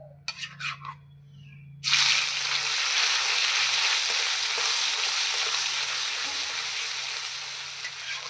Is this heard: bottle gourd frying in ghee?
yes